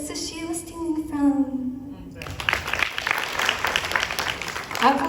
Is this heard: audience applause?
yes